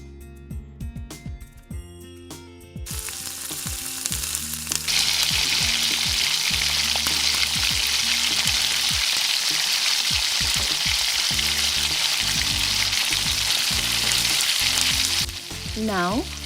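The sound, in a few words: chicken frying in a pan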